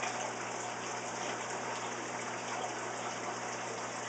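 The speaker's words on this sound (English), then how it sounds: "So as it's up, siphoning water up, pumping water up" An aquarium overflow pump gives a steady, quiet rush of water as it siphons and pumps, an even hiss with a low hum beneath and no pauses.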